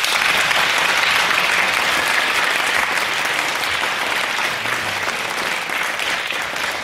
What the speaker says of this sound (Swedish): Det ska vi applådera igen om jag får be.